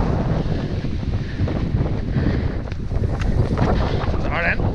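Strong wind buffets the microphone on a sailboat at sea, with a steady rushing roar and gusty swells throughout, and a voice speaks faintly under it.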